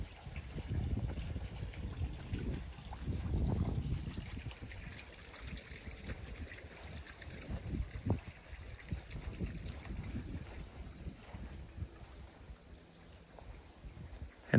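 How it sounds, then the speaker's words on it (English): A garden water feature on a covered deck trickles softly under heavy wind noise buffeting the microphone, faint splashes running through the whole stretch with no voices. "Another water feature."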